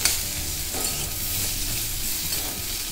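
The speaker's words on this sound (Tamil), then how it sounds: "அதையும் நல்லா வதக்கிடுவோம்" Chayote peel and curry leaves being sautéed in a pan give off a steady, close sizzle with soft stirring scrapes throughout, and no one speaks.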